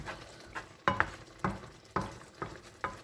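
Cauliflower risotto with mushrooms being stirred in a pan on the stove, with soft rhythmic scraping strokes about every half second over a faint simmer, close but quiet.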